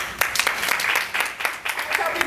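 Audience applause fills a Boys and Girls Club talk in Lakewood, steady close clapping with scattered sharp individual claps throughout.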